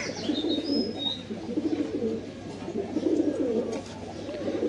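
Khaki pigeons cooing in a loft, a steady run of low, soft throaty coos repeating close by, with faint higher chirps early on.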